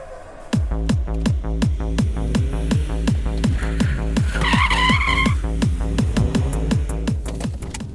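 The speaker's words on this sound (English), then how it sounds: "let's see if I can get a little skid around this cone" A classic Mini is thrown into a handbrake skid around a cone, its engine pulsing in a fast, even rhythm up close, with a short tire squeal rising midway.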